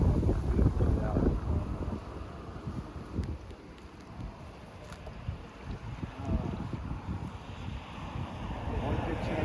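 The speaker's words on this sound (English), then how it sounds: "the wind's blowing stinking hard" Strong wind blows hard over the microphone while fishing outdoors, a constant low rumbling roar with pulsing gusts and a faint watery wash beneath.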